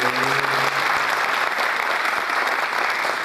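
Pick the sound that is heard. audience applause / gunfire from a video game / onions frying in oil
audience applause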